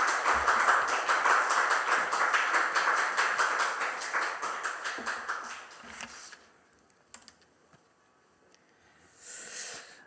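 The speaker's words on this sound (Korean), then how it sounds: "박수로 맞이해 주시기 바랍니다." Applause from a church congregation at a Friday prayer service greeting a pastor, dense and steady for about six seconds before fading out into near silence, with a brief swell of noise at the very end.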